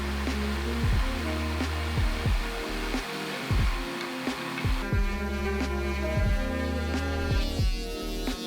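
A jigsaw cuts a round porthole hole through wood for a bedroom build, a loud, droning motor hum with a rapid pulsing blade stroke and shifting pitch as the cut progresses.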